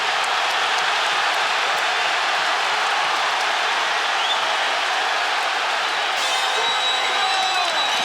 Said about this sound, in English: They are standing and cheering at Barclays Center.